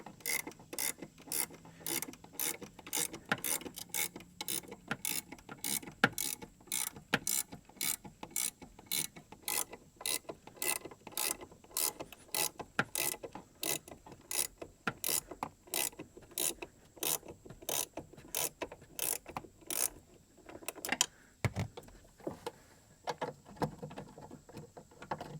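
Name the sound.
spring compressor being worked on GM OBS truck door check link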